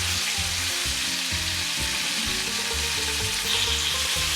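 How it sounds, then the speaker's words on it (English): Mushrooms, purple onion, and red and green peppers sizzle steadily in a hot pan, a continuous close crackling hiss with soft stirring bumps and no talking. "Hear that sizzle?"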